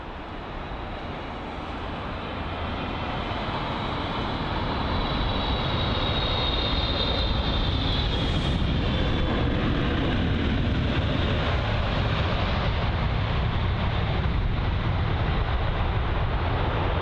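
Singapore Airlines flight SQ306, registration 9V-SWZ, comes in to land at London Heathrow with a loud, broad jet roar that swells over the first seconds and then holds steady and close, with no voices.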